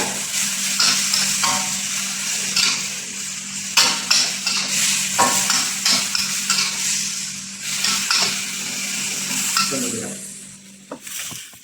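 Pork stir-fried in a pan, a steady sizzle overlaid with frequent scraping and clanking strokes of a spatula against the pan, close and fairly loud throughout.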